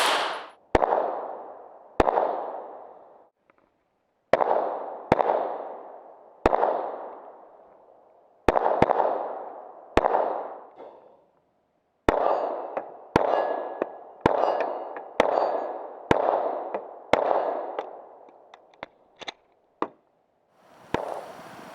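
About seventeen sharp, loud pistol reports from a Kahr CW9 9mm, fired in uneven bursts with short pauses between, each crack trailing off in a brief ringing decay.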